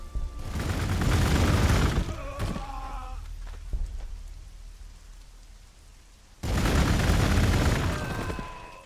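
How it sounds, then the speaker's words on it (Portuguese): Gunfire from Battle Sisters units in the strategy game Warhammer 40k Gladius comes as two dense, crackling bursts, one at the start and one near the end, with sparse interface clicks and quieter game sounds between them. "Vou encher de tiro esse maluco aqui."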